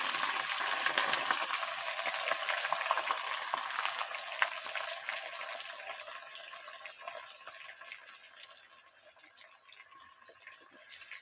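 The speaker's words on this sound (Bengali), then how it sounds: "এবার আমি দিয়ে দেবো পেঁয়াজ" Chopped onion sizzles in hot oil in a pan after spices have been tempered, a steady bright crackle that slowly softens over several seconds.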